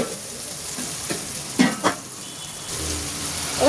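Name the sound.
onions frying in a pan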